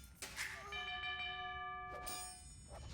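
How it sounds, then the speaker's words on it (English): The town bell rings in Age of Empires II, a bright bell tone that chimes, decays, and strikes again, heard during gameplay against faint background sound. "I keep hearing town bells"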